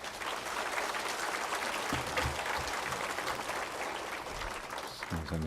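Audience applause welcoming a pastor to the stage at a Sunday church service, a steady wash of clapping from a large congregation that holds throughout, with low murmurs and a few voices near the end.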